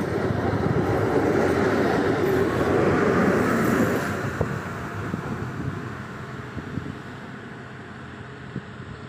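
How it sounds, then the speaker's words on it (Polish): A Regio regional passenger train, SA 136 007 on the Szczecin Główny to Koszalin service, pulls into Goleniów station, a loud steady rumble that swells and then gradually eases, with no talk over it. "Wjeżdża pociąg Regio, relacji Szczecin Główny,"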